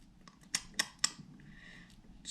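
Scissors snipping material while a Clouser Minnow fly is tied, three crisp close cuts in quick succession, then a faint rustle and one more soft snip, in a quiet room.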